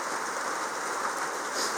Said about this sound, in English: When it's raining real hard.